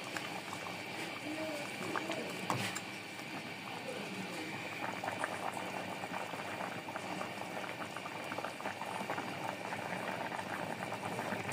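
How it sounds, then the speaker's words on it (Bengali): Water boils in a cooking pot, a constant low bubbling and rolling churn heard close but fairly quiet, steady throughout. "এবার জলটা ফুটে আসা পর্যন্ত অপেক্ষা করব।"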